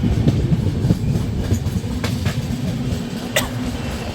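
The Seemanchal Express, train 12487, rolls out of Aligarh Junction with a steady rumbling roar, wheels clicking over rail joints and brief metallic squeals, heard loud and close from on board.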